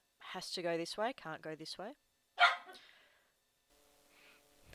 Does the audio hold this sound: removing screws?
no